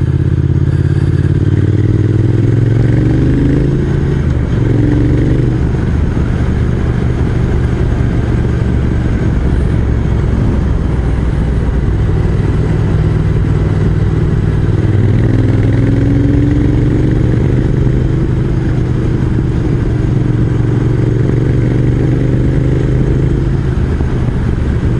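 A Triumph Speed Twin motorcycle climbs tight hairpin bends toward the Plateau des Glières, its engine loud and close, revs rising and falling as the clutch is slipped through each turn, with no talk.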